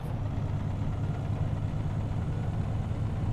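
A truck engine in a driving simulator idles with a van-like, slightly heavy diesel character, a continuous low throbbing hum held steady and close for the whole stretch, no talking over it.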